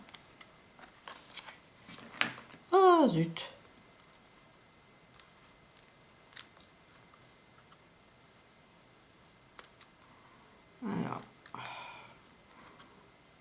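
Scissors snip paper while trimming a soliflore bud-vase craft: a few short, close crisp cuts early and another brief burst later, with a quiet exclamation and light handling noises between.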